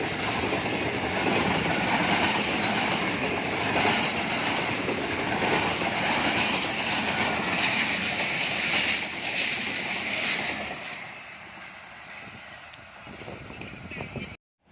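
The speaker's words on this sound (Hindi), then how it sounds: "मूसा पाक एक्सप्रेस इन एक्शन हो रही है मोहसिन वाल फुल स्पीड में" Musa Pak Express passenger train rushing past at full speed near Mohsin Wal, Pakistan, a loud sustained roar of wheels and carriages with clickety-clack and wind noise that fades as the train leaves.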